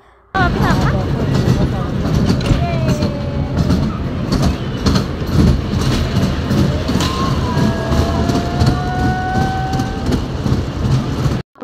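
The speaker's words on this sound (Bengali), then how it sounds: "কিনে তারপরে চলে এলাম ট্রেন চড়তে। মেলায় গেলে আর ওখানে চড়ি, খুবই ভালো লাগে।" A small ride-on train at a Christmas fair runs loud and close, with rumbling wheels, rhythmic clatter and long metallic squeals, while people talk throughout.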